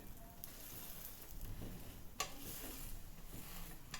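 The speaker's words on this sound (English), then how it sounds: "So guys, can you see our pancake is cooking beautifully?" A pancake sizzles softly in a pan over low heat, a faint, steady crackle with small pops and no talking.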